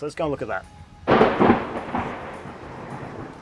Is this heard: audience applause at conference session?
no